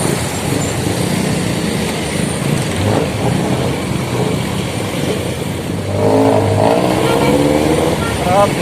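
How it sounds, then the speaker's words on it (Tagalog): Busy road traffic at a highway crossing in Tanay, Rizal: continuous engine rumble and passing cars and trucks nearby, with a heavier vehicle revving up in the last few seconds. "Traffic na."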